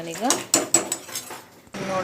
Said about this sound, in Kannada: ಈಗ ನಾನು ಕುಕ್ಕರ್ ಲಿಡ್ ಕ್ಲೋಸ್ ಮಾಡಿ 1-2 ವಿಸಿಲ್ ಬಿಟ್ಕೊತೀನಿ ನೋಡಿ.